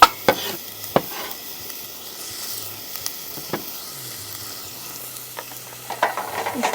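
Bacon being stirred in a hot pan at an outdoor Thai village cooking setup, a steady close sizzle and hiss with occasional scraping knocks of the utensil against the pan.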